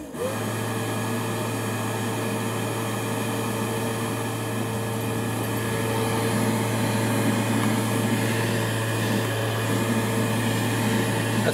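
A homemade low-cost dust reduction system fan runs steadily, sucking air with a constant loud whirring hum and a low drone that holds throughout without pause.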